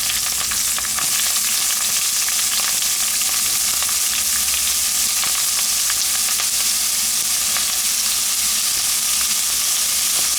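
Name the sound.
onions and chillies frying in a pan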